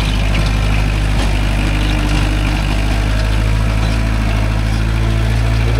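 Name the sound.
Kubota MU4501 45hp tractor engine running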